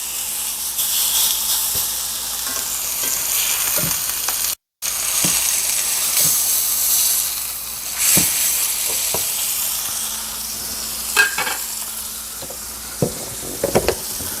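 Pork chops searing in a hot oiled pan, a loud steady sizzle and hiss with occasional sharp pops and the scrape of meat being lifted and moved, close and without talk.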